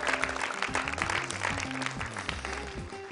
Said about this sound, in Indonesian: Boleh tepuk tangan sekali lagi untuk Zula dari Batam.